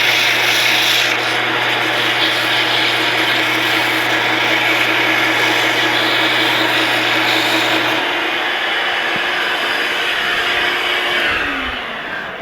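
Abrasive sanding rasps against a wood piece spinning on a lathe, a continuous scratchy rubbing over the hum of the lathe motor and a shop vacuum, with the hum dropping away near the end.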